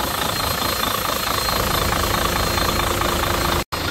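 Iveco Cursor 13 diesel engine, 13,000 cc, in an Astra HD7/C 84.40 four-axle COIME concrete mixer truck, idling steadily with a dense, even rumble that stays constant before a brief dropout near the end.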